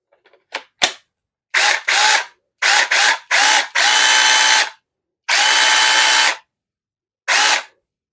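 A small cordless mini chainsaw fitted with a Makita battery whirs loudly in a series of short bursts, then a couple of longer runs, with silent pauses between each trigger pull.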